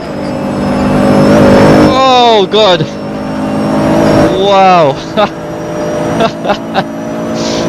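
A GT3 race car engine heard from inside the cockpit, loud and close, revving hard in repeated rising sweeps with sharp upshift breaks and throttle lifts, while a driver exclaims briefly over it.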